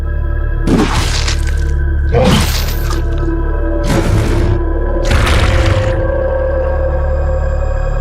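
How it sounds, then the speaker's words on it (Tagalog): Crashes and shattering objects fill a fight scene in a Tagalog horror audio drama, four loud breaking bursts spaced about every one and a half seconds over a low steady rumble. "Maraming gamit ang nabasag."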